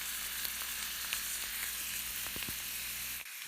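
Bacon with ginger, garlic and onion fries in a pan with a steady, dense sizzle and a few faint utensil clicks, close and continuous with no talking, before it cuts off abruptly near the end.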